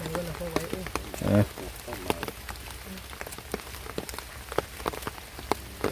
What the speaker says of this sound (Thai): อ้าวมันคือฝนเด้